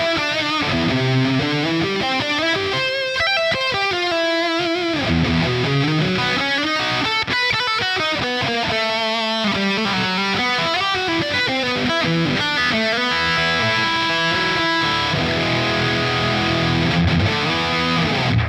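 A Cream T Crossfire electric guitar with Seymour Duncan pickups plays through heavy distortion, chugging riffs and sustained chords and lead lines ringing loud and continuous, with no talking.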